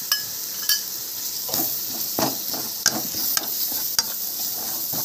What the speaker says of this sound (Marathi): आणि पीठ जरा भाजून घ्यायचं।